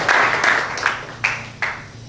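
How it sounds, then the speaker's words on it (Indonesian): Applause from an audience at a theology school graduation ceremony, a brief burst of many hands clapping that fades in waves, fairly close. "Mari kita berikan tepuk tangan."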